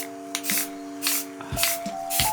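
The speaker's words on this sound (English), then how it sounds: "This spray paint will do it." Aerosol spray paint applied to a Chevy Silverado truck without primer, several short bursts of hissing spray, close, with a faint steady tone in the background.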